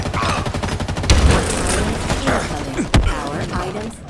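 Sustained gunfire during a Halo Infinite Live Fire match, a steady crackle of shots layered with a couple of sharp heavier bangs and muffled game voice callouts in the mix.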